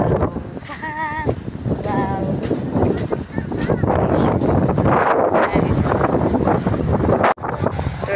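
Strong gusts buffet the microphone on Camiguin island, a steady roar of wind noise lasting throughout with a brief dropout near the end, while people talk over it.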